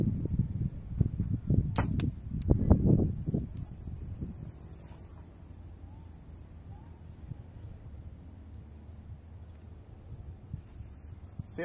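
A bow looses hunting arrows for wild boar at a target 15 metres away. A few sharp, close snaps and thuds come in a quick cluster, then fade to quiet outdoor background.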